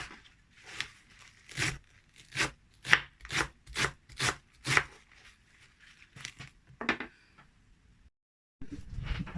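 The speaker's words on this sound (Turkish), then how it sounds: "pırasalarımı da küçük küçük minik minik doğrayacağım" A knife chops leeks rapidly on a board, about a dozen crisp, evenly spaced strikes, close and clear, then a pause and some softer shuffling.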